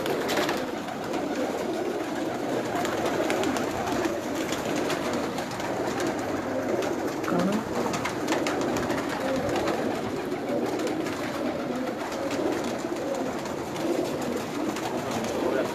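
Pigeons of Sialkot breeds, kept by a fancier, coo steadily throughout a long stretch, with low murmuring calls layered over a constant background hum and no clear talk.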